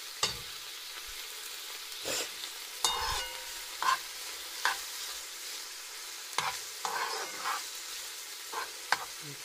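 Lardons fry in a pan under a steady, close sizzle, broken by repeated sharp scraping strokes as they are stirred at irregular intervals.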